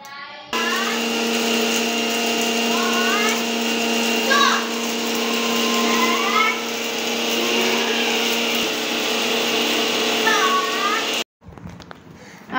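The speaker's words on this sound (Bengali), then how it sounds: "এখন এটাকে মিক্সিতে তোমার গুঁড়ো করে নেব।" A mixer grinder grinding dry-roasted garam masala spices, a loud steady motor whine and rattle running for about ten seconds before cutting off abruptly, with brief voices over it.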